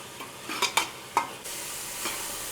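Garam masala stirred into a frying egg and field-bean curry base, a few quick scraping strokes of the spoon against the pan over a soft, steady sizzle, close by.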